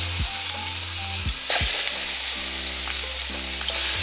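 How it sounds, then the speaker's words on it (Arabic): Onion-marinated chicken pieces frying in hot oil in a baking tray, a loud, steady close-up sizzle and crackle with occasional spattering pops, continuous across the whole moment. "صينيه وحطيت فيها زيت وهبدا اضيف الفراخ بقى"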